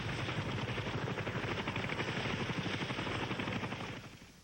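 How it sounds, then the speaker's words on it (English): A Navy Huey UH-1B gunship helicopter flies past during the Vietnam War, its rapid rotor chop a dense, steady, rhythmic thumping that fades off at the end. "the crews of the Huey UH-1B helicopters, nicknamed Seawolf"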